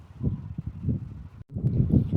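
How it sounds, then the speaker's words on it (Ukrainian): Wind gusts blow outdoors over a garden plot with frost-damaged seedlings, buffeting the microphone in low, rumbling bursts that drop out briefly before returning just as strong. "Ой, і вітер. Коли воно вже це все стихне."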